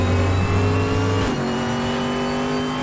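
A GTR 1 class GT race car in RaceRoom Racing Experience holds a loud, close engine note at high revs, with a sudden shift in pitch partway through and the engine droning on.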